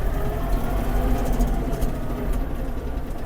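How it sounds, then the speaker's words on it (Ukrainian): A Kubota GL-29 Japanese mini tractor engine runs loudly and steadily with a low rumbling drone, revving up slightly as it accelerates. "Трактор гарно розганяється."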